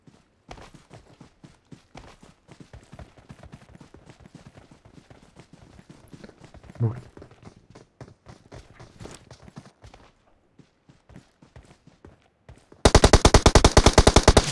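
Gunfire in the mobile game PUBG Mobile: a long run of faint, distant single shots and quick taps, ending in a loud, rapid close-range burst of automatic fire.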